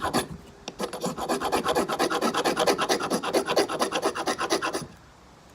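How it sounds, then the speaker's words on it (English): A sharp knife spine scraped along a magnesium ferrorod in fast, even rasping strokes, about twenty close, loud scrapes in a steady rhythm before stopping abruptly. "It scrapes magnesium blocks, magnesium ferrorod combo blocks, everything."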